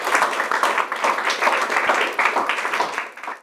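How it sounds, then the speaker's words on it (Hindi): A studio audience on a quiz show claps loudly and enthusiastically for a teacher, a dense sustained round of many hands that fades out near the end. "तो मैम के लिए तो ज़ोरदार तालियां बननी चाहिए।"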